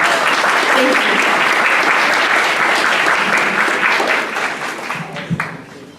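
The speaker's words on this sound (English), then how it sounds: "So let's give her a round of applause." Sustained applause from a seated audience at a STEM speaker series talk, dense and steady for most of the stretch before thinning and fading toward the end.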